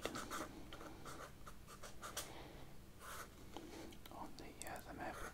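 Sharpie marker scratching across a paper map in short squeaky strokes, close and intimate, with a soft whispering voice over it.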